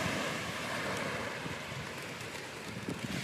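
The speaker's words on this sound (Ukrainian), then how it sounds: "Вон там видно волны белые." Black Sea surf breaks along a beach near a sewage outflow, a continuous broadband wash of waves mixed with wind rumbling against the microphone and no voices.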